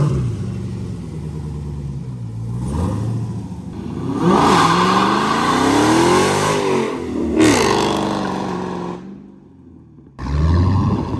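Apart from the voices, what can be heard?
Hellcat car burning tires at drag launch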